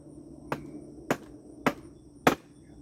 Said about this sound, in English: tap in my pegs, make sure that they're in there good enough